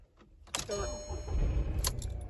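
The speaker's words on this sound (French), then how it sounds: "je vais mettre la clé dans le truc, je vais tourner le moteur" Keys jingle briefly, then an engine cranks and catches, settling into a rough running rumble nearby.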